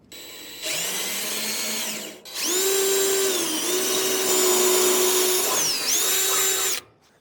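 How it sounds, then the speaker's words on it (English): A power drill punching a hole for side trim on a 1967-1972 Ford F100 pickup, two loud sustained whining runs with a brief pause and pitch dips under load, close by with no talk. "Just punch us a new hole there, it'll hold on that way."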